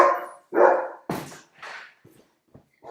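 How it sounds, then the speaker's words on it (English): Several dogs barking in short sharp bursts just after being let out at home, loud and close, with a few quieter yips and whimpers trailing off between barks; no talking. "I'm gonna let my dogs out real quick so they'll leave me alone"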